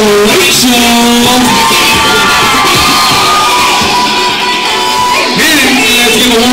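A wedding reception crowd cheers loudly as the bridesmaids are introduced, a steady wash of shouts, whoops and high yells with clapping underneath, close and dense throughout.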